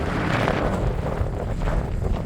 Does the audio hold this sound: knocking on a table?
no